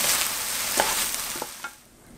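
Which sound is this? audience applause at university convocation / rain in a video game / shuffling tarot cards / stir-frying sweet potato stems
stir-frying sweet potato stems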